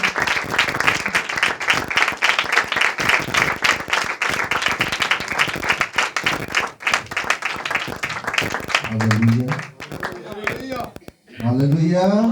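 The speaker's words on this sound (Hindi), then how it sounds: "जब तक वो दाइस पे नहीं आ जाते आपकी तालियां न रुके।" Congregation applause at a church service welcoming a pastor to the dais, loud sustained clapping from a large crowd for several seconds, giving way to someone speaking over the fading claps near the end.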